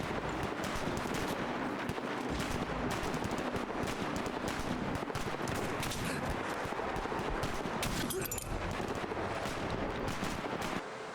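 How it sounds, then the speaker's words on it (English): Rapid hunting rifle fire in Fallout crackles almost without pause, a dense, loud barrage of shots running the whole time with no voices. "this hunting rifle is actually outrageous"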